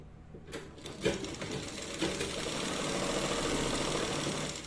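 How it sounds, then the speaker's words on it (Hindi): A sewing machine stitching fabric for a designer top, its motor starting up and settling into a steady close whirring hum of rapid stitches that runs to the end, with no talking. "तो इस पे हम एक पैर का सिलाई लगा लेते हैं"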